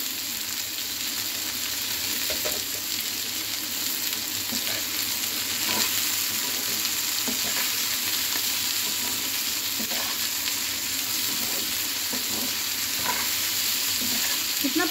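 Garlic and onion sizzle and fry in a pan while being stirred, a steady close crackling hiss with occasional soft scraping, lasting throughout with no talk.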